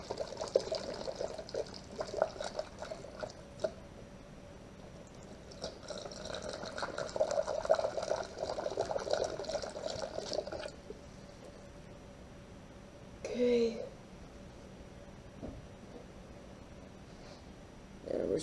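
Radiator flush liquid poured into a car radiator during a corrosion and rust flush, a steady moderate pouring and trickling wash that runs for about ten seconds, stops, then gives way to a brief gurgle and quiet dripping.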